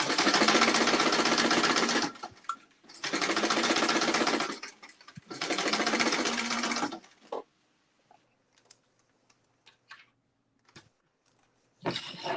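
A sewing machine stitches a quarter-inch seam on an accordion clutch, running in three loud, steady bursts of about two seconds each, then going quiet apart from small handling clicks.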